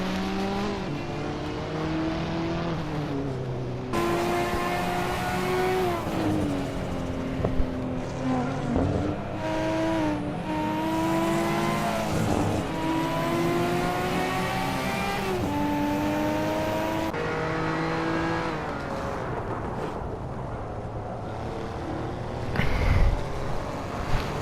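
Abarth 595 (Fiat 595) engine racing in a Hot Wheels video game, revving up and down continuously at close range with repeated gear shifts and rising pitch, loud and steady with no talk.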